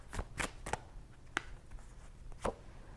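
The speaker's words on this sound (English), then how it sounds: "See if I can hold on to the cards and shuffle" Tarot cards are shuffled in a handful of quick, crisp riffling bursts spaced irregularly, close and fairly quiet, with no talking.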